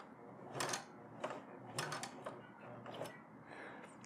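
A sewing machine runs backward for a back stitch, giving soft mechanical whirring and clicking in short bursts, fairly quiet and close, with no talking.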